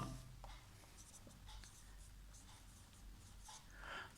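Steady scratching and tapping of a marker or chalk writing geometry points on a board during a circle-theorems math lesson, continuous and close across the whole stretch with no speech.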